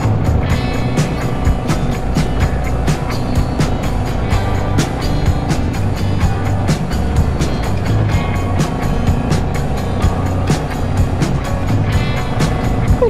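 Motorcycles crowd a packed Brighton Burn Up bike rally, a continuous loud wash of engine rumble and revving with sharp clattering transients throughout, nearby and unbroken.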